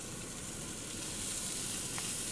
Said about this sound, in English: you'll immediately hear, once it hits the meat,